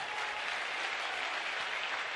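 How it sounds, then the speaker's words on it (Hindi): Loud, dense clapping from a large audience at a Bageshwar Dham religious gathering, a steady wash of applause with no break for its full length. "बिटिया के लिए खूब ताली बजाओ,"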